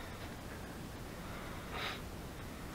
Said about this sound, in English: I don't mean to sniffle